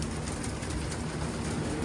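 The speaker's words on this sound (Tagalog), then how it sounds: "Ayan, mga ibon natin." Low, soft cooing of pigeons under a dense, steady background rumble, with no talking.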